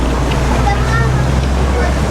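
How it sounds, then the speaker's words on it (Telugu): A canal boat sets off on murky drainage water in Bangkok, giving a continuous low motor drone mixed with wind buffeting and water wash, steady and close throughout. "బోటు బయలుదేరిపోతుంది"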